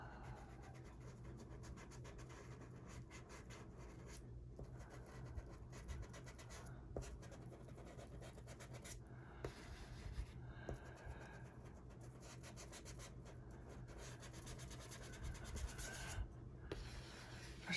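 A pencil colors across paper with steady, close scratching and rubbing strokes in uneven rhythmic bursts, quiet and dry, with short pauses between strokes and no talking.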